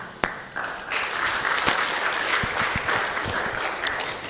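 An audience at a Sunday love feast claps for the speaker after a class, a steady, moderately distant patter of many hands that swells after a few sharp knocks and continues evenly, with occasional thumps.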